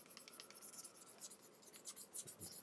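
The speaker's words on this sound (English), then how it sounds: "So here, sanding it." Smooth sandpaper rubs a leather fold-in cardholder edge in quick back-and-forth strokes, a soft, faint, rhythmic rasping close to the listener.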